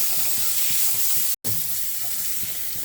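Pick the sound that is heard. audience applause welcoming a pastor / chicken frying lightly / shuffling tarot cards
chicken frying lightly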